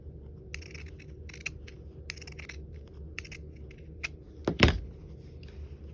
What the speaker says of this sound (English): I like to use my pinking shears